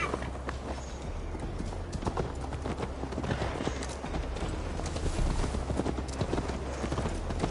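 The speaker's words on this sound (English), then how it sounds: "Mount up, Eivor. It's a long ride to Tamworth" Hooves gallop steadily in a rapid clip-clop while a horse is ridden in the video game Assassin's Creed Valhalla, loud and continuous, with occasional snorts and voices mixed in.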